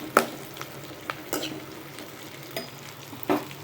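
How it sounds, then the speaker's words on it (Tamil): Sliced onion fries lightly in a pan, with a soft sizzle broken by a few distinct stirring scrapes and clinks at irregular intervals, close and fairly quiet. "லைட்டாக இந்த வெங்காயத்தை ஃப்ரை பண்ணிக்கலாம்"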